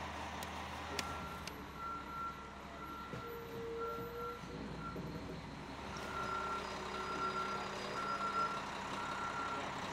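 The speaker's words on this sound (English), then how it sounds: "It was time for the concrete truck to go." A concrete truck reversing on a residential outdoor job site, its backup alarm beeping in a steady repeated rhythm at moderate distance over a low diesel engine rumble.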